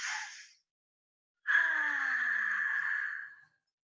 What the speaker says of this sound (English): And breathing in and out.